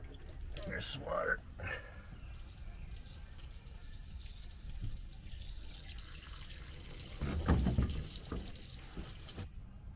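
Water trickles and drips as it drains out of the hull of a Sherp amphibious vehicle, faint and steady with a brief louder splash, while a person talks over it.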